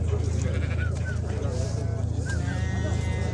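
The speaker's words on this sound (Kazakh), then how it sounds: "Мұндай қозылар бар екен" Lambs bleat a few times in short wavering calls at the Sokuluk livestock market, over a steady low hum and busy background chatter, with people talking nearby.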